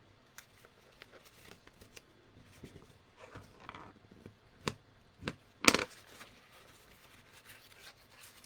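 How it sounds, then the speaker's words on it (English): Card stock being folded along its score lines makes scattered soft rubs and crisp creasing taps. Close and quiet, it builds to a few sharper snaps near the end, with no talking. "now we're going to fold on those score lines"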